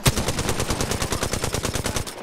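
Rapid automatic gunfire from the battle royale game Apex Legends, a steady burst of evenly spaced shots rattling continuously for about two seconds, loud and close with no voices.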